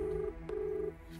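Two short electronic tones from a telephone being dialed, each a steady beep of roughly a third of a second separated by a brief gap, heard fairly clearly over a low background hum with no talking.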